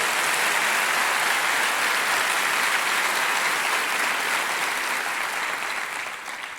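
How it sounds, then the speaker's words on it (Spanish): A church congregation claps for God during a sermon, a dense, steady wave of applause at full strength that begins fading slightly in the final second. "Dale un aplauso a Dios"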